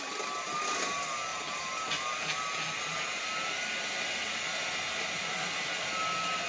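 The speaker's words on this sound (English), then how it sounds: "I like to use the hand mixer for this because it gets them nice and fluffy." Electric hand mixer whipping boiled potatoes into fluffy mashed potato for a meatloaf dinner, a steady motor whir with a high whine running unbroken the whole time, close and fairly loud, no talking.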